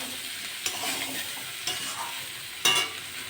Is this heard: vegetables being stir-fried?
yes